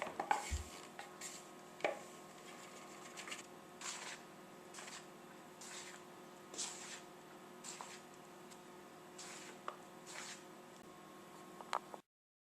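A spoon stirs flour and spice mix into Christmas cake batter in a bowl, a quiet sequence of soft scraping, thick squishing strokes at a slow, uneven rhythm, close and faint.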